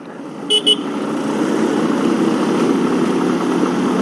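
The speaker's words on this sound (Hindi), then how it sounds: "मेरे को ना ये हॉर्न चेंज करना है यार। पी पी कितना अजीब लगता है वो" Two short, bright honks from a motorbike horn sound close by, over the steady rumble of an idling engine.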